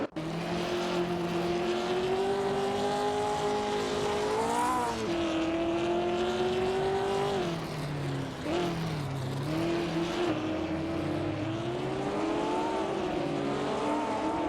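Race cars in an AI racing simulator video game: a continuous loud engine drone with pitch rising and falling through gear shifts and passes, several cars overlapping at close range, no talk.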